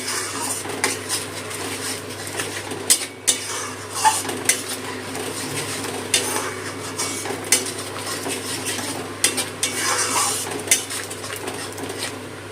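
Ground spices with oil being stir-fried for a pointed gourd and prawn dorma, dominated by repeated metal spatula clinks and scrapes against the pan over a low, faint sizzle.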